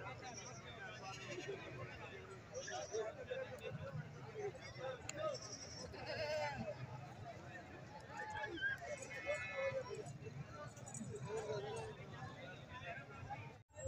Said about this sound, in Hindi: चलो बकरियां देख लें